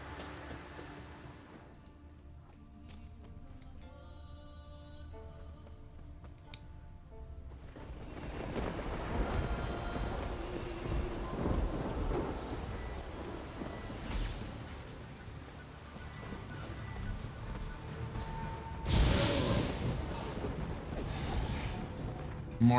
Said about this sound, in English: I'm tired of storms constantly on this island. Like, the Skellige Isles are like constantly raining.